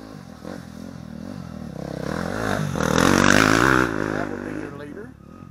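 Dirt bikes racing through the woods during a Mideast Hare Scramble big-bike event, engines revving as riders pass close by, rising to a loud peak and then fading, with a person talking over the engine noise.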